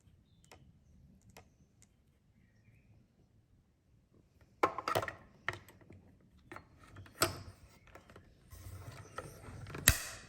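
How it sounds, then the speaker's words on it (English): Die-cutting and embossing machine pressing dies through card, a quiet run of mechanical ticks and clicks that grows into sharper, louder cranking clacks in an irregular rhythm. "I'm going to use the dies to cut these out on my cut and emboss."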